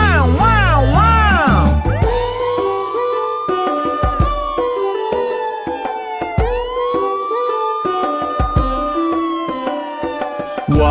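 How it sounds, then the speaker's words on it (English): A cartoon ambulance siren in a children's song, its wailing tone rising and falling repeatedly over a bouncy musical backing with singing, loud and upfront throughout. "Let's call an ambulance."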